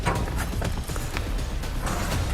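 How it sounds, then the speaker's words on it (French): Irregular soft thuds of footsteps over a steady low rumble, several steps in quick succession without any talking. "C'est des bruits de pas, ouais."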